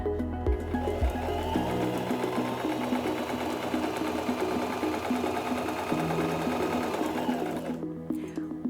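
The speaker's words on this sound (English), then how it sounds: "step on the foot control to start sewing" A SINGER M1600 sewing machine stitches medium-weight fabric in a steady, close mechanical whir that starts after a few low thumps and runs evenly for several seconds before stopping abruptly.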